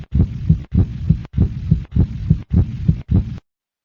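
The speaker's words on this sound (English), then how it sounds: "Beneath the tough, fibrous coating of the heart, you can see it beating" An animated heart plays a synthetic heartbeat sound effect, six evenly spaced lub-dub double thumps at a steady rhythm, deep and close, followed by silence.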